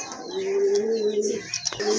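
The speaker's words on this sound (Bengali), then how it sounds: "বিগ সাইজের এক জোড়া কবুতর" Big-sized pigeons cooing up close in a loft, a sustained throaty coo with a few soft chirps and rustles, loud and clear with no talking over it.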